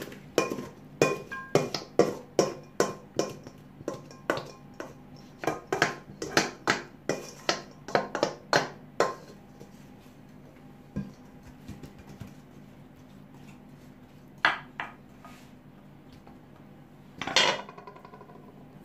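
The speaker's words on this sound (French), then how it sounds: "Je vais mettre les pommes de terre dans le moule." Potato pieces dropped one after another into a baking mould, a quick run of sharp knocks and clatters that thins out into a few isolated clinks, close and dry.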